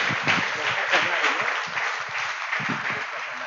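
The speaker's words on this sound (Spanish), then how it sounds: "¿Qué tal si lo recibimos con un fuerte aplauso al Señor?" A church congregation breaks into strong, steady applause to welcome a guest preacher, a dense wash of clapping from a large indoor crowd that holds evenly throughout, with some voices mixed in.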